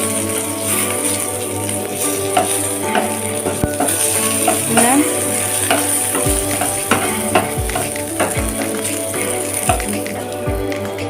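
Bay leaf, dried red chilli and nigella seeds crackle and sizzle in hot oil as they are stirred in a pan for a Bengali mustard pointed-gourd dish. The loud, continuous frying is dotted with spatula scrapes and clinks.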